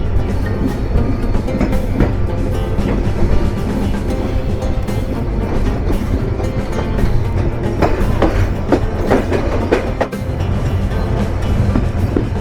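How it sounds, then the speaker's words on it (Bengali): The Rupsha Express intercity train pulls into Saidpur railway station at platform one, a loud, steady rumble of rolling wagons with rhythmic clattering and metallic knocks that carries on throughout. "train number seven two eight intercity down Rupsa express প্রবেশ করতে চলেছে"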